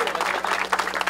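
A crowd at an adidas HOOPS RJ17 MC battle in Rio gives a brief burst of applause for the opening MC duo, lively clapping mixed with voices and cheering.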